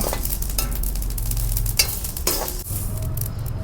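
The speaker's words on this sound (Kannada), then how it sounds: "ಆಲ್ರೆಡಿ ಎಷ್ಟು ಚೆನ್ನಾಗಿ ಚಟಪಟ ಅಂತ ಇದೆ." Mustard seeds crackle in hot oil for a homemade bele sambar powder, giving a steady close sizzle with quick popping and a few scraping stirs of a spoon against the pan.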